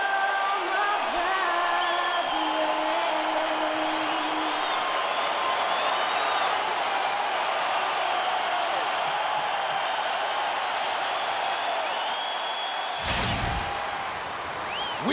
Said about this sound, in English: We've got an electric crowd here in Golden State's Oracle Arena